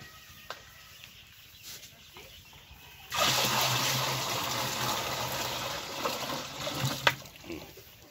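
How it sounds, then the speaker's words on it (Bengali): Water pours and splashes steadily into a drum of fermented corn and water for chickens, starting abruptly partway through and running close and loud to the end, with a faint earlier background and brief bird clucks. "ওই পানিটা ঢাল দাও।"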